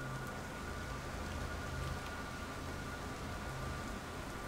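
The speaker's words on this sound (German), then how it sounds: "Ich höre Regen." Steady rain in Kraven Manor hisses evenly throughout, a dense, constant wash with a faint tonal hum beneath.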